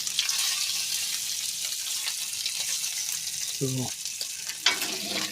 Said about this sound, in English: Now what's she cooking up here? She got some Nicolet's bacon, specialty bacon